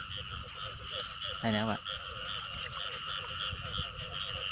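A single short frog croak rings out once from a flooded rice field at dusk, rising above a dense bed of insect and frog chorus, while someone speaks briefly nearby.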